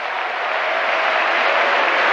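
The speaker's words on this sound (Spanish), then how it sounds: "Démosle un aplauso al Señor y alabemos su nombre" A church congregation claps together in praise during a sermon, a dense, loud and even wash of applause that holds steady throughout.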